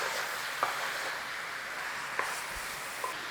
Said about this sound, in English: Just give it a little stir in, a little cook in there.